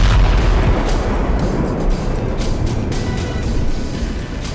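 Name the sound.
bomb explosions in Gaza war footage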